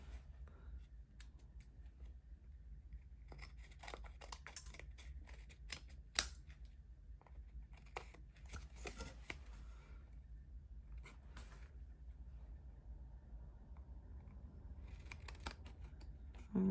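Scissors snip through glued paper in a run of quick, quiet, uneven cuts with a sharper snip now and then, close to the mic under faint background murmur.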